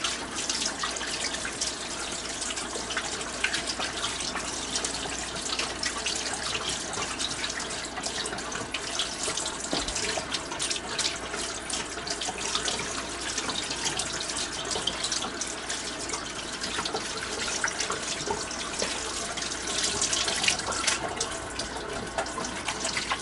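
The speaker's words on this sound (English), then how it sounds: "Just have to wash my hands." Hands being washed under a running kitchen tap to get grease off while making homemade barbecue hamburgers; a steady, close hiss of flowing water with splashes, continuous throughout with no talking.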